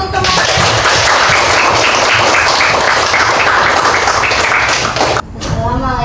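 Classroom applause for classmates during a teacher-training lesson on Islamic history, a dense crackle of many hands clapping steadily for about five seconds before cutting off abruptly, with brief chatter afterward.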